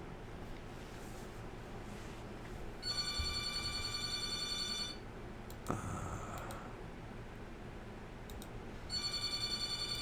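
A telephone rings in a quiet room, electronic trill bursts repeating in a steady on-off pattern, with a sharp click between rings and faint background hiss.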